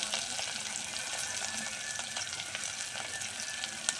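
Curry leaves and turmeric frying in oil for a bottle gourd and moong dal dish: a faint, steady sizzle and crackle that continues throughout with no talk.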